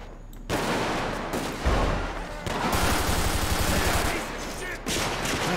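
Gunfire in GTA 5 during a police mod raid on an army base, bursts of rapid automatic shots with a rattling machine-gun stretch in the middle, loud and close, with a voice briefly over the action.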